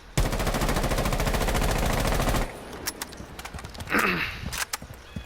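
Rapid automatic gunfire from a video game fires as one loud, sustained burst for about two seconds, then gives way to scattered shorter shots, clatter and game effects.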